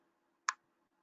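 A single quiet mouse click on a button in a payment software demo, one short sharp tick against near silence.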